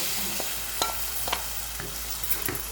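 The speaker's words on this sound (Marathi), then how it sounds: "एकसारखं आपण हे हलवून घेणार आहोत" Flour batter being stirred in a hot wok, a continuous sizzle with several scraping strokes of a spatula at irregular intervals.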